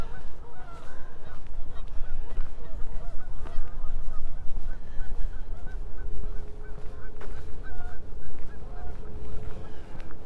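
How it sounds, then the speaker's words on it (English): Many Canada geese honk repeatedly in A.E. Wilson Park in Regina on a late-winter day, a steady chorus of calls at mid distance over constant outdoor rumble, with no talking. "Lots of geese around, you can hear them."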